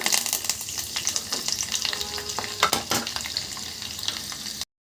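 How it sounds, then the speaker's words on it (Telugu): Mustard seeds and cumin crackling in hot oil for a tempering, a close, busy sizzle full of sharp pops and spatters with light stirring, then an abrupt cutoff, no speech. "1/2 టీ స్పూన్ ఆవాలు, జీలకర్ర వేసేసుకున్నాం"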